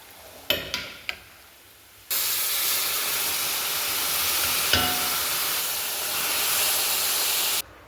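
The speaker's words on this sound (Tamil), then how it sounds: "குக்கரில் வேக வச்ச கடலை ரெடியாக இருக்குது. இப்போ அதில் போட்டு மிக்ஸ் பண்ணிடலாம்" Pressure-cooked chickpeas go into a hot pan after a few sharp clinks and taps, setting off a loud, steady hiss of sizzling steam that holds evenly for several seconds, marked by one brief knock of a spoon.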